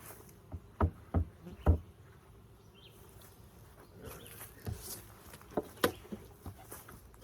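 Honey bees from a healthy farm beehive in June hum steadily at close range, with several sharp knocks and thumps from handling the hive standing out above the buzz.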